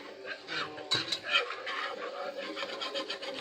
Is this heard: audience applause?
no